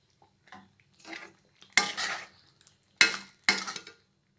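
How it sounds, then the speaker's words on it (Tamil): A ladle stirs Tirunelveli samba wheat halwa in an iron kadai, giving about five sharp metallic scraping and clinking strokes. The strokes come close and at uneven intervals, with quiet gaps between them and no speech. "நல்லா அந்த கரண்டியும் அந்த இரும்பு கடாயும் நல்லா டச் ஆகி நல்லா கிளறணும்"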